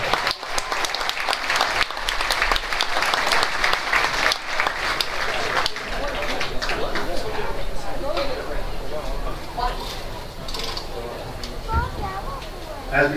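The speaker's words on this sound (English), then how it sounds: "How about another round of applause for the Scotty Marching Band?" A stadium crowd applauds a high school marching band at a county band festival on a football field, with dense sustained clapping and cheering that fades gradually, while an announcer talks over it.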